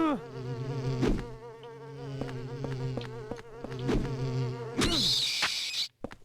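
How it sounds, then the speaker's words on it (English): Flying insect in the horror game Silent Hill 4: The Room, giving a loud, close, droning buzz with a steady harmonic whine and several sharp impacts, stopping abruptly near the end. "It's a flying insect."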